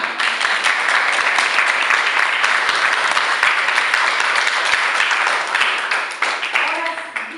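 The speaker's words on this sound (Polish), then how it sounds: "Wielkie brawa." An audience at the Museum of Kashubian Culture in Wejherowo applauds to welcome a guest, loud, dense and steady clapping that fills most of the clip. It tapers off near the end as a voice begins.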